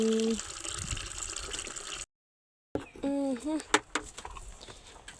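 Water is poured out for a pair of bullocks to drink outdoors. Splashing and gushing are interrupted by a brief silence, then return with short, sharp sounds and voices nearby.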